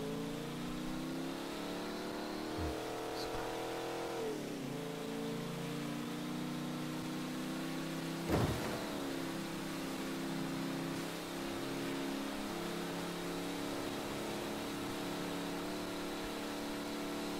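A car engine in Mafia III hums and revs through shifting gears as it drives along, a steady mid-range drone with a sharp thump partway through, close and continuous without talking.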